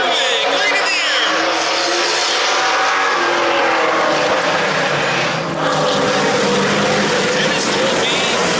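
Race cars in a heat race at Lake Doucette Motor Speedway, their engines a loud, dense, continuous roar across the whole stretch with a brief dip near the middle.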